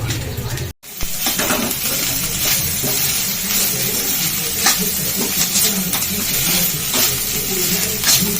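Rice stirred into a sizzling pan for a lunch-box dish, with steady frying hiss and scraping stir strokes throughout, a brief clatter near the start, and a voice talking over it.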